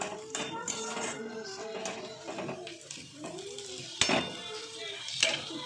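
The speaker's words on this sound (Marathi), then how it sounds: "आता छान शेंगदाणे, मिरच्या, जिरी, मोहरी सगळं छान फ्राय झालंय बघा।" Peanuts, green chillies, cumin and mustard seeds frying in a pan, with soft sizzling and stirring, with spoon scrapes and clinks of metal against the pan, close and fairly quiet.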